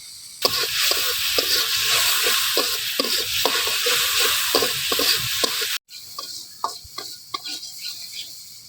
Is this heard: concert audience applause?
no